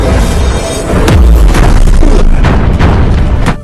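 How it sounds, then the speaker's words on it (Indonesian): An explosion effect in a martial arts fantasy film: a loud, close, booming blast with a deep rumble, followed by several sharp cracking bursts that rattle on through the rest of the moment. "Hal itu membuat sebuah ledakan dan Qin Chen pun jatuh ke dalam jurang"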